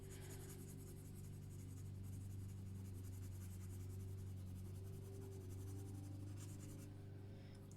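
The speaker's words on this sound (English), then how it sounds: "Start burnishing and then blending this side." Colored pencil, in hot pink, burnishing and blending across paper with a steady, continuous scratchy rubbing that persists throughout, close and moderately quiet over a low constant hum.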